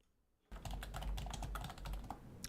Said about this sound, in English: Listen to him frantically typing when he thinks he has it all figured out.